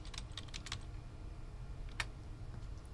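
Computer keyboard typing while entering an extrude command in a CAD program: quick clusters of key clicks near the start, then a single louder keystroke, under a steady low background hum.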